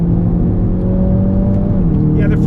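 Hyundai i30N hatchback engine revving hard under acceleration on track, a loud, close, sustained drone with a steadily rising tone.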